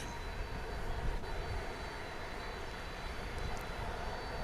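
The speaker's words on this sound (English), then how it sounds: "An Airbus A321." Airbus A321 on approach at DFW International Airport, a faint, distant steady engine rumble and roar that holds evenly across the few seconds.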